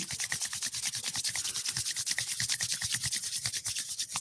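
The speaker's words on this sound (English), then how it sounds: "Take your hands, place them together like prayer position, and just rub them." Palms pressed together in prayer position rub back and forth in a steady, continuous swishing friction, close and fairly soft, with no voices over it.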